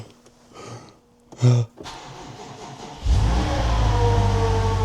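After a few quiet clicks and shuffles, a rebuilt BMW M5 engine cranks and fires up, then settles into a loud, steady running rumble.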